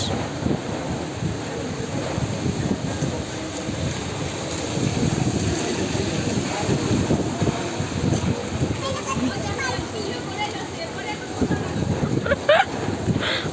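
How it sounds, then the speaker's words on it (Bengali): Strong storm wind roars and buffets the microphone in a constant low rush, with people talking underneath. "বাতাস এখনো বাতাস আছে প্রচুর বাতাস"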